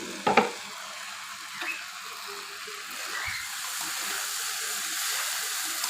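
A pan of river fish curry with jackfruit seeds and greens simmers after the lid is lifted, with a soft hiss, brief clinks, and scraping as it is stirred.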